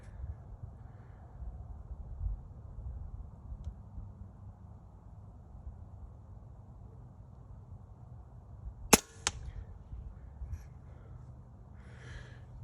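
An FX Impact Mark 3 air rifle fires at an outdoor range, giving one sharp, quiet crack followed by a fainter second snap over low background rumble.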